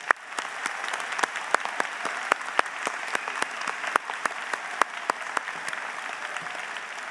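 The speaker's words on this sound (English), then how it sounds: "One more round of applause, please." Graduation-ceremony applause from a seated audience, a steady wash of many hands clapping with a few sharper individual claps standing out, moderately distant and continuing alone without speech.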